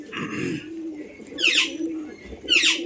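Giribaz pigeons in a loft make soft low coos followed by two brighter, sweeping calls, close by and fairly clear against a quiet background.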